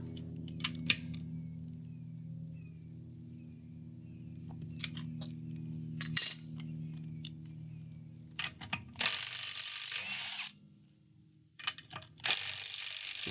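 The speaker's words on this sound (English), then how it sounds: "I'm just going to torque these lug nuts back to exactly 89 foot-pounds." Ratcheting clicks of a torque wrench snug lug nuts on a car wheel to 89 foot-pounds, bursts of clicking and metallic mechanism noise separated by quieter pauses, close up.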